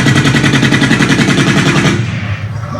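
Rapid machine-gun fire from a World War II battle scene in the TV series Band of Brothers, a loud, dense burst of rattling shots that stops abruptly near the end, leaving a fading echo.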